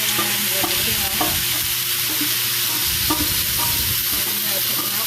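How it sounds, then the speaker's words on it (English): Onions stir-fried with carrots and peas for fried rice sizzle loudly and steadily, with periodic spatula scrapes and clacks against the pan throughout. "So the carrots and peas are almost cooked. I'm going to add the onions and everything else."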